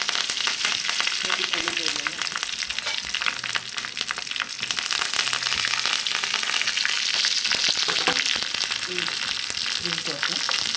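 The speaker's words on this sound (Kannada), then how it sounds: "ಹಿಂಗಿನ ಒಗ್ಗರಣೆ ಈ ಸಾರಿಗೆ" Cumin, dried chillies, Byadgi chillies, curry leaves and asafoetida sizzle and crackle in hot oil as tempering for Mangalore cucumber sambar, a dense steady hiss with occasional stirring clinks.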